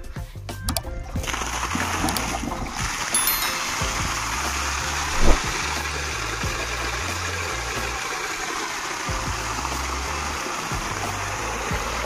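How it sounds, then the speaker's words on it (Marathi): A Seileaf 7.5 HP solar water pump runs on a farm in Bhojade, Kopargaon taluka, with a steady engine-like drone and continuous rushing, splashing water flow, one brief sharp knock midway. "पाणी चालू कर रे मोटर।"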